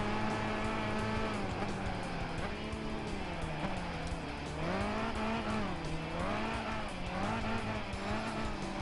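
A Ford Focus racing at Laguna Seca in Gran Turismo 5, a loud continuous engine drone rising and falling through gear changes and corners, with squealing tires.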